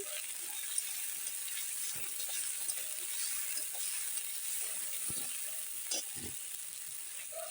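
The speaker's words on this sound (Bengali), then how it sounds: "আলুটা দিয়ে একটু নেড়ে নেব" Potatoes frying in a pan with green chilli make a soft, steady sizzle, with a few faint scraping stirs now and then; fairly quiet and without talk.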